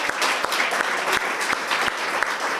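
A church congregation claps together in dense, sustained applause, loud and close, with sharper individual claps standing out from the crowd.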